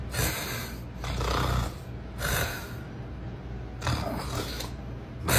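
Loud, rasping snores repeat in slow rhythm, three heavy breaths with quieter pauses between them.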